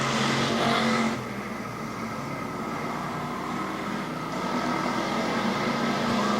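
Race cars circle Barberton Raceway Park, a steady engine roar rising and falling slightly as the pack passes at moderate distance, with no voices.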